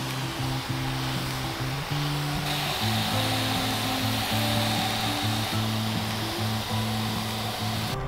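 A steady, broad hiss of a hose spraying water onto seedlings runs continuously up close, with a faint low tonal hum beneath it.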